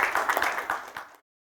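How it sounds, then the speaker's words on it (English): Brief applause from a summit audience welcoming a speaker, a cluster of claps that rises and then cuts off abruptly after about a second. "Please welcome Mr. Salunke with a great round of applause"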